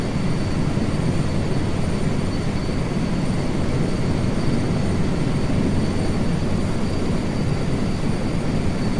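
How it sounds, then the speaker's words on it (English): Steady broadband engine and rotor drone of a helicopter flying in Microsoft Flight Simulator 2024, loud and unbroken throughout with no talking. "Here is a nice area as we fly this helicopter."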